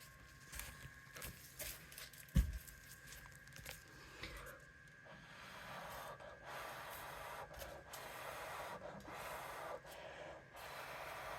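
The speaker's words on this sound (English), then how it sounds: "Using a lamp black cell activator and going to blow this with my breath" Breath blown onto a coaster covered in resin with a lamp black cell activator: a series of soft, airy puffs and gusts in irregular bursts, close and faint, with one sharper knock.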